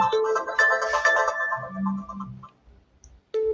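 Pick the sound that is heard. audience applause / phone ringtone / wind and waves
phone ringtone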